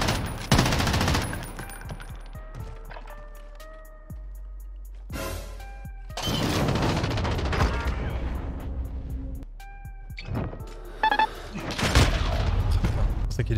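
Desert Eagle pistol fire in the Call of Duty: Modern Warfare video game comes as several loud, sharp bursts of gunshots with ringing tails and metallic tones between them, while a player talks at times.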